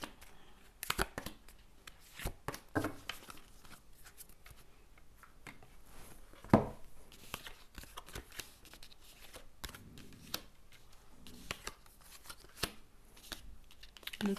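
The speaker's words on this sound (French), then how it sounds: "Tirage en 5 cartes." Tarot cards being shuffled and drawn for a five-card reading, a run of quiet crisp riffles, flicks and slaps in irregular bursts, close and fairly soft, with no voices.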